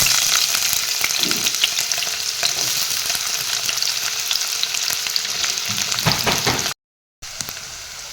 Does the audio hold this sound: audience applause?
no